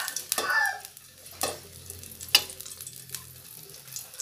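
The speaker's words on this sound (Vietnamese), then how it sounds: "Chiên sắp xong rồi nè các bạn" Vegan crab cakes frying in oil in a home kitchen, soft sizzling with occasional sharp clinks and scraping stirs, fairly quiet and close, no voices.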